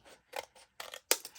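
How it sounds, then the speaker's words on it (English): Scissors snip through a double thickness of greeting card in four short, crisp cuts, close and fairly quiet, with brief pauses between strokes. "So I'm cutting through both thicknesses of this greeting card."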